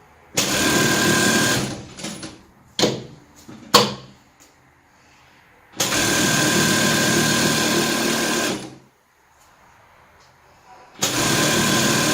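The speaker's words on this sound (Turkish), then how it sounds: "Etrafını 1 santim dikişle vuruyoruz." Sewing machine stitching a vest seam with a one-centimetre allowance, running in long steady bursts of several seconds, broken by brief starts, clunks and pauses, close and loud with no talking.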